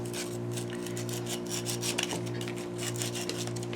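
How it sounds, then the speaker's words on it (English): Steady rasping rub of sandpaper on a wooden pinewood derby car part, rounding the piece smooth, with continuous close strokes over a low steady hum. "hold on to that piece of wood, and sand those out so they're nice and round"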